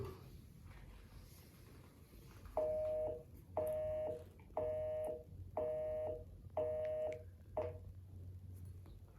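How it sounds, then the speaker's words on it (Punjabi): A series of six evenly spaced electronic telephone tones, each lasting about a second, over a quiet background hum. "ਤੁਹਾਡੇ ਸਾਹਮਣੇ ਲਾਈਵ ਫੋਨ ਲਾਣ ਲੱਗਾ ਆ"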